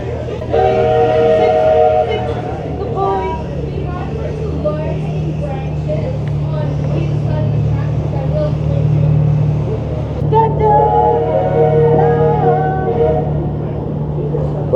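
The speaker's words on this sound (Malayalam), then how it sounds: "ട്രെയിൻ യാത്ര തുടങ്ങിയിരിക്കുകയാണ്" A steam train rolls along with a steady low rumble, and a melodic tune with talk sits on top throughout; no distinct whistle or chuffing stands out.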